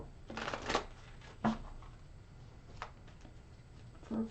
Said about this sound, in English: Let's do that shuffle over again.